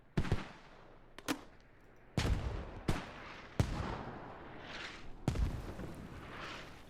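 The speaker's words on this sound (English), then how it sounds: "First mortars from the Middle Eastern Task Force are landing." Mortar shells land in Squad in a run of about half a dozen heavy, booming impacts at irregular intervals, each a sharp crack that rolls off into rumbling decay. No voices are heard.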